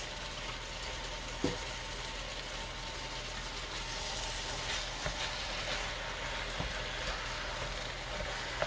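Ground turkey browning in olive oil in a pan, a steady close sizzle and crackle throughout with a few soft clicks of a utensil, no voices.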